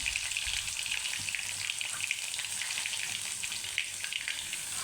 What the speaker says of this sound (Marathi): टाकून घेऊ जिरे मोहरे टाकल्यानंतर आपण हे लसूण टाकू